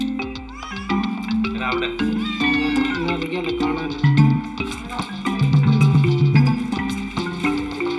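A pet kitten meows repeatedly in plaintive, rising calls that come one after another, close to the microphone and loud, with no talk over them.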